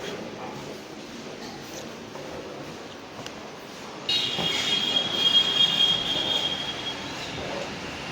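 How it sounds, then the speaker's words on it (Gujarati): A train rumbles past in the distance at Somnath railway station, with a thin metallic wheel squeal rising midway over steady low noise. "આ જે છે સોમનાથનું રેલવે સ્ટેશન છે"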